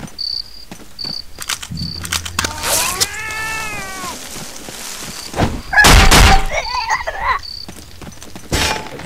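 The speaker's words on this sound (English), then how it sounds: "I just hear a cat." A cat meows once, long and wavering, in the video game Half-Life: They Hunger, over chirping insect sounds and sharp game thuds and impacts.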